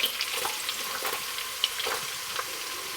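Garlic frying with rendering bacon in olive oil, a steady close sizzle with faint crackles and pops throughout, no voices.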